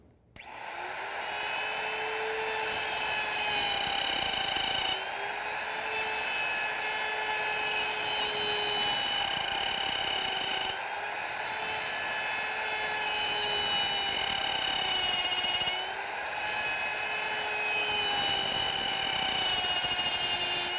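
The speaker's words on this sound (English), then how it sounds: "and we're ready to route" A wood router cuts drawer parts in a woodworking shop, a loud high-pitched whine holding steady through four long passes, each broken by a brief dip as the cut ends and restarts.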